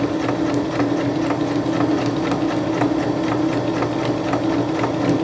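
A sewing machine stitches fabric for a gift card holder, a steady close mechanical whir with a fast, even needle rhythm running without a break under no talk.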